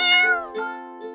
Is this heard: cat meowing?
yes